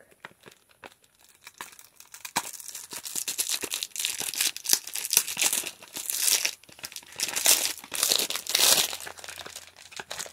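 Plastic wrapping around a bottle of Resurface Hydro Essence skincare toner crinkles and tears in dense, irregular bursts, close and fairly loud, with no talking.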